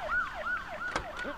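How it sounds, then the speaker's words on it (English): Toy police car from a Lego Duplo set sounding its siren, a loud, close, rapidly repeating wail that rises and falls several times within a second and a half. "There is a police car here."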